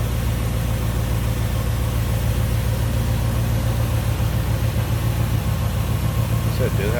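A 1958 Ford Fairlane 500 Skyliner engine idles with a smooth, steady low rumble from close by. A voice can be heard over it.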